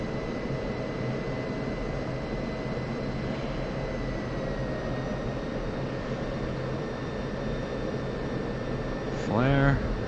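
An F-16C jet in the DCS flight simulator comes in to land, a steady engine drone and whine filling the cockpit throughout, with a short rising electronic tone near the end and a voice speaking over it.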